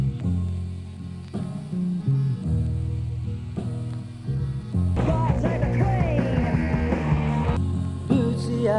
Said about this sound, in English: The gramophone record from Trench 2 has been glued back together and sounds like this.